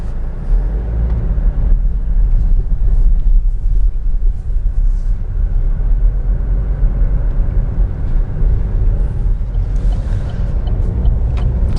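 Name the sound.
Vauxhall Astra automatic car driving on the road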